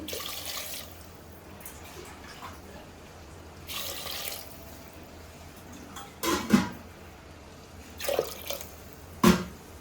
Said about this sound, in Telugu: ఇందులో అయితే ఒక రెండు గ్లాసులున్నర వాటర్ పోస్తానండి